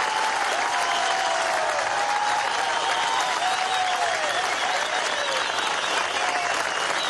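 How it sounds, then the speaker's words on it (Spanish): Loud, sustained applause from a large outdoor crowd at a Bolivarian militia ceremony at Los Próceres, a dense continuous roar of clapping with whistles and cheers woven through it. "¡Fuerte el aplauso a la milicia bolivariana!"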